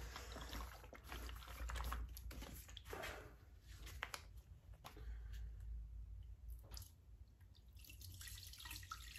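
Liquid resin poured over raw antler material in a casting mold, a soft, close, steady trickle with faint drips, quiet and without talk.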